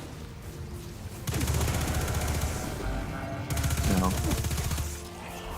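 Video game gunfire rattles in two long automatic bursts of rapid shots, fairly close and steady, while someone talks over it.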